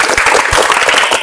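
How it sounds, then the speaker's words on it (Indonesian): Participants in a basic SMAW welding class give a short burst of dense, loud group applause in a classroom, steady clapping filling the whole moment. "Oke, tepuk tangan buat kita semua."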